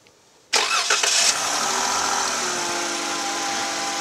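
A Jeep, Dodge or RAM engine with a ZF 8HP eight-speed transmission cranks briefly after a quiet moment, catches with a loud surge, then settles into a steady close idle.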